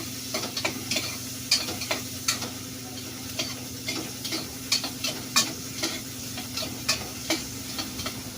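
Pork sinigang with mamoy being stirred in a pot, regular scraping and knocking strokes of the ladle against the pot over a faint simmering hiss, close by and fairly quiet.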